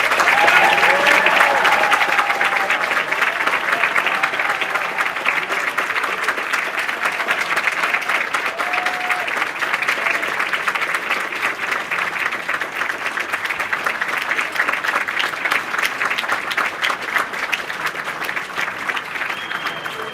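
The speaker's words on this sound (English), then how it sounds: "offer a round of applause to Ruth" An audience at a Democratic congressional district convention claps in sustained, dense applause that holds loud and steady for about twenty seconds, with faint voices underneath near the start.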